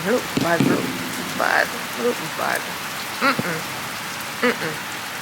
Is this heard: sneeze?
no